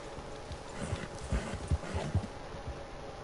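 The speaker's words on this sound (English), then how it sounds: "Oh, what do we got there? Some horses." Horses in the Red Dead Redemption 2 Online video game give off soft, faint clip-clop hoof beats, several irregular thuds in a quiet outdoor scene.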